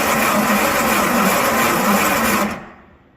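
A railcar speeder engine running steadily with a loud, buzzing mechanical drone, then cutting off abruptly and fading out over the last half second.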